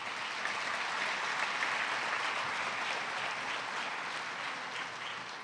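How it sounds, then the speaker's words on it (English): Audience applause fills a commemorative evening event, a steady, even roll of many hands clapping at moderate, somewhat distant volume for several seconds. "Give them all a round of applause."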